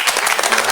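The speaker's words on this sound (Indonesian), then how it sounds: "Yuk kita tolong tepuk tangan dong." A student association audience breaking into applause, a loud, close wash of many hands clapping over a very short stretch.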